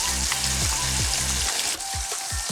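Cumin seeds sizzle in hot oil while cooking chicken tikka masala, a steady loud crackling hiss with light popping throughout, no voices.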